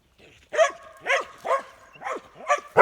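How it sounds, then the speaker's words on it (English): A dog barks deeply five times in a steady rhythm, each bark loud and fairly close, with short quiet gaps between them. "Did you hear that deep bark?"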